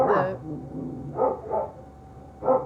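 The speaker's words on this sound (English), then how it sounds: "Sorry for the barking." A few short dog barks ring out, one sharp bark followed by a quick pair and then another, somewhat muffled and indoors at an animal shelter.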